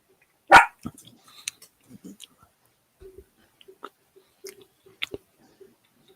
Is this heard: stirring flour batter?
no